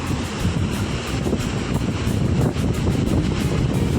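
Arabian Sea surf on the Konkan coast near Naravan village, a steady broadband wash of waves mixed with wind buffeting the microphone, loud and continuous with no voices.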